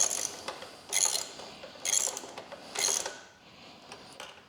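Hand tools tightening the rear spring on a Ducati Desert X motorcycle, a few bursts of quick ratcheting clicks separated by short pauses, close and crisp, with no talking.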